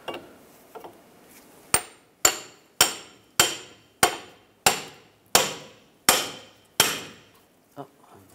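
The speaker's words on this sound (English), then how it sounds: "We're going to separate the ball joint from the knuckle. I'm just going to use a pickle fork." A hammer strikes a pickle fork to split the front lower ball joint from the steering knuckle on a 2004-2009 Toyota Prius: about ten sharp, ringing metallic blows, close and evenly spaced.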